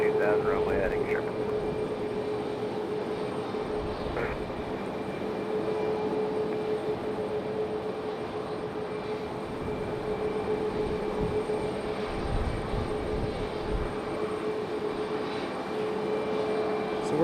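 A jet airliner departs Raleigh Durham airport, its engine roar a steady, continuous broad rumble with a faint whine, held at an even level for the whole stretch against open outdoor ambience.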